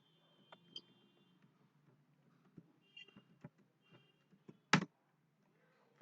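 Text is typed on a computer keyboard in MS Word, sparse and faint keystroke clicks scattered irregularly through a quiet room, with one louder clack near the end.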